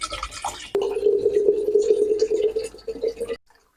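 Water pours steadily into a container for about two and a half seconds, a continuous filling stream that rises slightly in pitch before cutting off, with a brief clatter at the start and near silence at the end; the water is being prepared for beetroot detox water.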